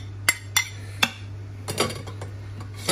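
Onions going into the inner pot of an Instant Pot pressure cooker for beef bourguignon: three sharp metallic taps, then softer clattering and rustling, close by and without speech.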